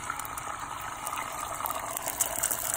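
Beaten egg poured into a pan of hot oil for a shrimp, egg and peas dish, giving a steady, close hiss and bubbling sizzle that holds throughout.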